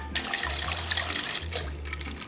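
Casserole mixture with egg poured from a bowl into a casserole dish, a steady wet trickling stream at close range over a low background hum.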